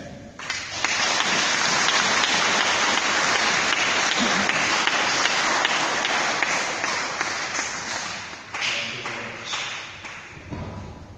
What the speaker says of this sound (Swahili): Makofi tena mengine kwa Bwana.